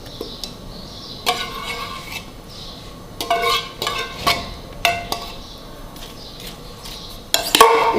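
Fruit salad of chopped apple and fruit cocktail mixed with a spoon in a bowl, giving a run of close clinks and scrapes in irregular bursts, louder near the end.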